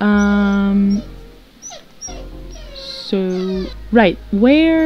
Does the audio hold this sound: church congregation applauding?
no